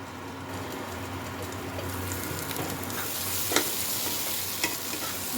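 Flat beans fry dry in a pan for shim bharta, a steady close sizzle and crackle that thickens partway through, with a couple of brief sharper spits and occasional stirring, no voices.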